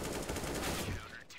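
Rapid gunfire from a CS:GO match at a LAN tournament, a dense, loud, continuous burst of shots that thins out near the end.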